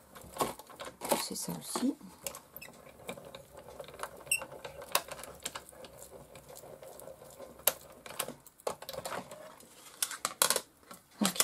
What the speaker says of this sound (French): un petit cadre, hop, on va le passer dans la machine.